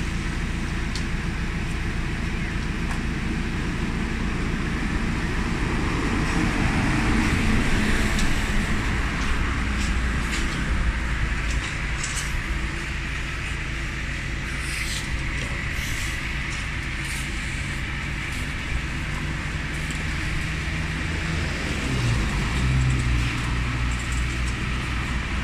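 Two Yamaha R25 motorcycles fitted with R-Racer exhausts idle side by side, giving a loud continuous rumbling drone close by with a slight rise and fall in revs and no speech.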